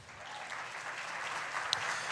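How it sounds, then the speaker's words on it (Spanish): Church congregation applauding in a sustained, even wash of clapping, moderately loud and continuous throughout. "Denle un fuerte aplauso a la palabra de Dios."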